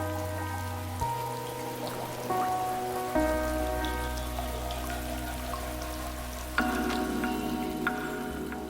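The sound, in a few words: rain falling in South American rainforest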